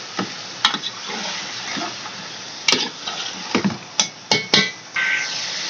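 Salted chicken pieces are stirred and mixed in a pot, heard as a series of sharp, close clanks and scrapes from the spoon in irregular bursts over a light sizzle.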